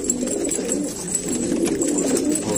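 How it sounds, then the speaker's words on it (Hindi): A flock of male roller pigeons of Afghan and Iranian breeds coos close by, overlapping low throaty calls forming a continuous, steady murmur. "सारे अच्छे कबूतरे हैं, सारे रोलर कबूतरे हैं।"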